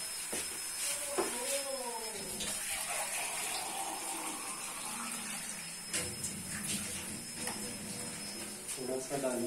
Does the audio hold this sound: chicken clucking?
no